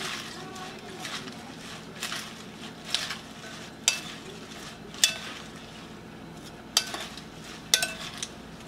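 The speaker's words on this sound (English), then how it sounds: "I'm just going to mix everything together" Lasagna ingredients being mixed together, spoon scraping and clinking against a dish in a series of sharp, irregular strokes over a soft background, with talking underneath.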